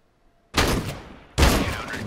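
Two loud, sharp bursts of video game gunfire, close and sudden, separated by a brief pause after near silence.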